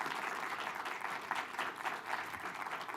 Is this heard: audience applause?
yes